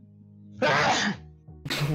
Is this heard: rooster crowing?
no